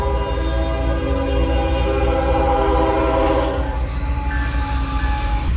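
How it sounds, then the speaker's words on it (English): A train passes close by, sounding its horn in a loud, sustained chord that holds across the whole stretch over the steady rumble of the rolling wagons. "Here comes the train."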